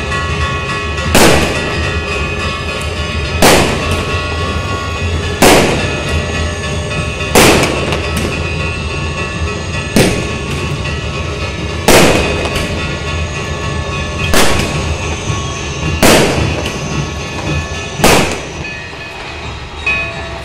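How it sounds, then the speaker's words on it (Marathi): Loud firecrackers burst one after another during Ram Mandir consecration celebrations, at steady intervals of about two seconds, each sharp crack ringing out over a constant noisy outdoor background. "फटाके फुटत आहे बघा."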